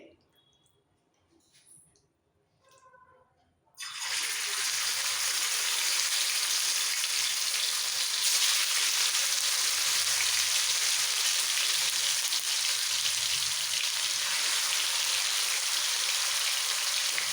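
Marinated chicken hits hot oil on a tawa, bursting into a loud, steady sizzle that holds without pause after a few quiet seconds of faint kitchen noise.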